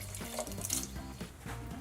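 Water runs from a kitchen tap into a pot or cup, a steady close splashing stream lasting under two seconds with no talking.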